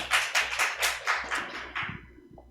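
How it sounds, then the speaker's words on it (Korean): A church congregation claps at a Sunday worship service: a handful of distinct, evenly spaced claps that loosen and fade out over about two seconds, fairly quiet. "하나님께 박수 올려드립니다"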